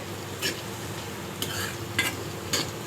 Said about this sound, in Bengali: তেল তেজপাতা একদম ভালো করে ভেজে নিতে হবে লাল লাল করে